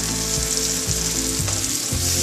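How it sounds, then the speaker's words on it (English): A cornstarch mixture is stirred into a sizzling chilli mushroom sauce, loud close frying hiss running throughout with a regular series of low stirring strokes about every half second. "Give it a stir."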